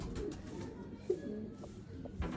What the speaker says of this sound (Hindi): चैम्पियन कसूरी कबूतर, गोल्डन कबूतर